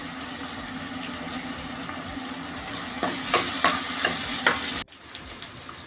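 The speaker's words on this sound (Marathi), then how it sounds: "त्याच्यामध्ये आपण आता टोमॅटो टाकूया टोमॅटो पण नरम व्हायला द्यायचा आहे तेलामध्ये" Tomatoes and onions frying in oil make a steady, close sizzle, joined midway by a few sharp stirring knocks before the sound drops slightly quieter.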